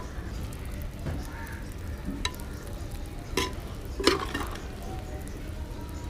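Anchovies sizzle softly in a pan while being stirred, with a few scattered clinks and scrapes of a utensil against the metal over a steady low frying hiss.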